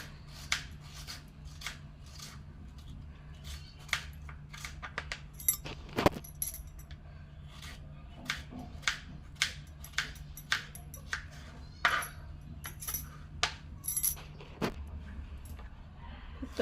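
Ivy gourd (tondli) finely cut with a knife, a run of crisp, evenly spaced chops and taps on a board, close and fairly quiet, with no talk over them.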